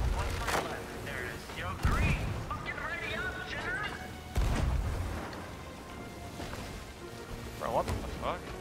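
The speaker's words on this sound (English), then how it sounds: "I got the cannon here." Heavy booming cannon blasts in a pirate sloop battle game, several shots spaced a few seconds apart, with electronic effects and talk over them.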